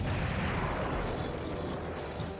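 Guided missiles exploding in the tank combat video game Battle Tanx Global Assault, a dense run of loud, rumbling booms and bursts that roll on for a couple of seconds with no talk.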